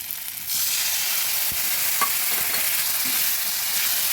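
Masala for a katla fish curry sizzles in a pan while being stirred, a steady frying hiss with a few soft scrapes and taps of the spoon.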